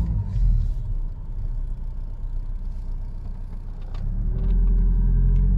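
Engine of a Mercedes 190 W201 car rumbling steadily at idle and low revs, a deep continuous drone that swells louder near the end as the revs rise.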